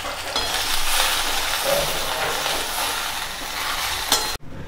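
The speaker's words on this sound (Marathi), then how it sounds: "भेंडी परतताना आपण त्यामध्ये थोडीशी हळद ॲड करूया" Okra sizzles and is stirred with turmeric in a hot pan, a steady close frying hiss with scraping stirs that ends abruptly near the finish, no one speaking.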